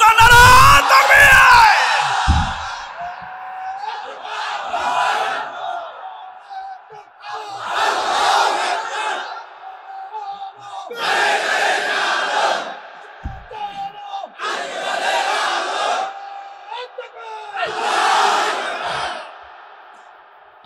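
A large crowd at a sermon roars back a takbir slogan in repeated loud unison bursts, six waves of shouting separated by pauses, after a man's call.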